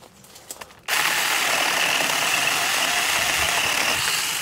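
A cordless mini chainsaw cuts through a branch about 2 inches thick: after a second of faint handling noise it bursts into a loud, steady high-pitched whine that holds right to the end.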